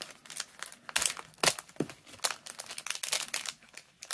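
Plastic bead packages being opened by hand, close crinkling and crumpling with sharp tearing bursts in an irregular, busy rhythm, fairly quiet, with no talk.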